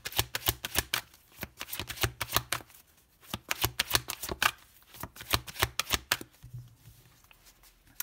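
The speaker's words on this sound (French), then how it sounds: "Allez, on y va avec les tarots. On va poser 6 cartes des vierges." Tarot cards are shuffled in quick close bursts of riffling flutter, broken by short pauses, then a few softer slaps as cards are laid down; no speech.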